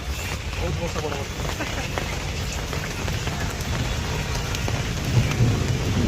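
Steady rain falls in Kolkata with low rumbles of thunder beneath, close and continuous, with faint voices in the background.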